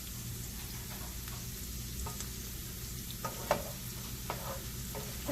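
Roughly chopped vegetables sizzle steadily in a medium saucepan over medium-low heat while being stirred, with occasional clicks and scrapes of the utensil against the pan over a soft, continuous frying hiss.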